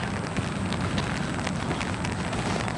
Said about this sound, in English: Yeah, the rain is getting worse.